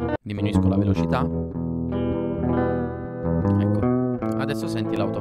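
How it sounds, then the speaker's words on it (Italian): Autopan modulation sweeps a sustained, harmonically rich synth-like tone with a distorted, chorused texture; it is loud and continuous, with steady swells and a brief dropout near the start. "Adesso senti l'autopan."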